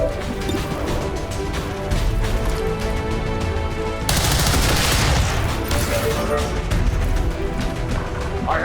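Gunshots and crashing impacts from the tactical game XCOM 2 fill the scene with a dense, steady layer of loud noise alongside music. A sharp burst midway adds heavier crashing, and someone talks throughout.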